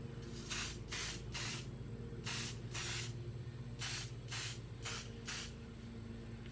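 Hair spray misted onto hair while styling beach waves, about nine short, close hissing bursts at a fairly even pace over a faint steady hum, with no talking.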